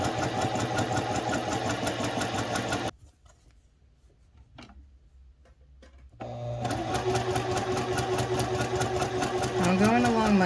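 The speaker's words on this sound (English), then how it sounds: "when you're sewing on a sewing machine" A sewing machine stitches a practice sample, running steadily and close, then pausing for a few seconds of quiet before starting up again. A voice talks over the machine while it runs.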